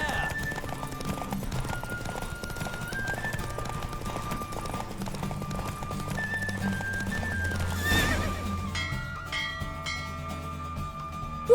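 Hooves clip-clop rapidly in a steady galloping rhythm alongside a horse's whinny during a horse race in The Witcher 3: Wild Hunt, with music and a voice underneath.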